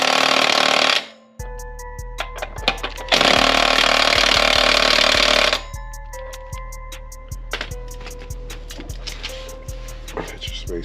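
An impact wrench drives the rear wheel bolts on a Harley-Davidson Lowrider ST softail in two long, loud bursts, separated and followed by rapid ratcheting clicks and metallic taps.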